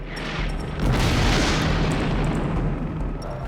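A tank shell exploding in combat between British forces and Iraqi armour, a deep, rumbling, sustained boom that swells after a moment and then rolls on steadily, loud and close.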